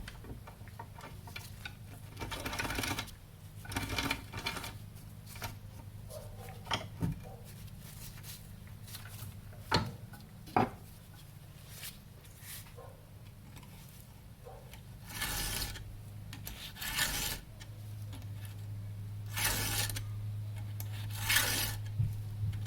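A chainsaw chain is hand-filed, giving intermittent rasping strokes in short bursts with pauses between them and faint clicks and ticks, close by and fairly quiet.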